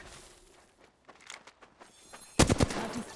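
Gunfire in Apex Legends cracks in scattered shots, then breaks into a loud, close burst of rapid automatic fire near the end.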